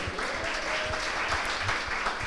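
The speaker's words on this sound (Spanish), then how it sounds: "dale un aplauso al Señor" A church congregation applauding during a Spanish-language sermon, a steady wash of clapping that holds at an even level through the short stretch, with a faint tone running beneath it.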